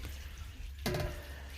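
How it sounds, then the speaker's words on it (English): Hot water pours from a kettle over herbs for herb tea, starting abruptly partway through as a close, steady splashing stream after a quieter lead-in. "She's pouring the hot water"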